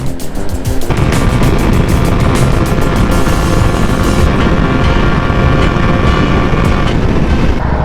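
A motorcycle engine runs loudly close up near Monte Maria in Batangas, with a burst exhaust giving a rough, throbbing roar that holds steady after a sharp start, alone without talk.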